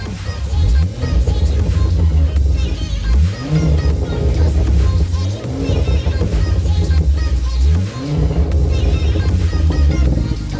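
A loud 340 BHP Ford Focus RS engine idles and revs through its exhaust, a deep throaty rumble with several rising blips of throttle repeating across the stretch; exhaust brackets are loose underneath.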